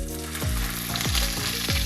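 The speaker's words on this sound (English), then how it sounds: "I'm gonna head over to the stove and I'm gonna start frying the sausages." Sausages frying in a pan on the stove, a steady close hiss of sizzling fat with a few soft low thumps, no voices.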